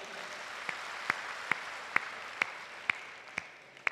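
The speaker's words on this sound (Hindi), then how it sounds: "मैं चाहता हूं पूरा सदन एक बार कलेक्टर साहब के सम्मान में ताली बजाए।" Audience applause at a Hindi kavi sammelan poetry event in Rajasthan, a continuous patter of clapping from the hall with sharp, evenly spaced louder claps punctuating it about every half second.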